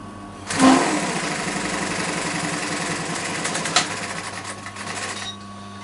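A sewing machine stitching a half-inch lock-stitch seam on a cushion, running in a steady, fast mechanical whir for about five seconds close up, then stopping, with no talking.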